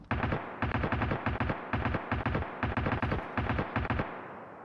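Rapid automatic gunfire from the video game Escape from Tarkov, in repeated loud bursts of close, sustained shots with short gaps between volleys, trailing off at the end.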